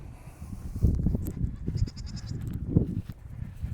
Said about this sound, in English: This is not how I'm normally greeted by my goats.